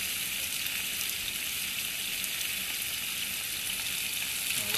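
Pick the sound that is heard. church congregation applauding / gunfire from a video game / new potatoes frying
new potatoes frying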